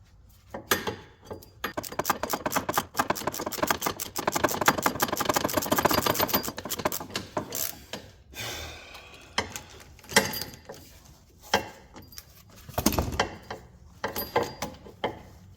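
Impact wrench hammering off a nut on a Nissan 200SX Turbo hatch tension rod, a long loud rapid rattling burst followed by several shorter bursts and clanks, close up with no talk.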